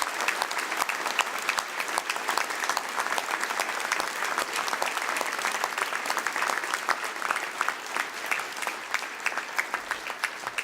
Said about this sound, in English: I'd ask them to just rise and receive a round of applause for their work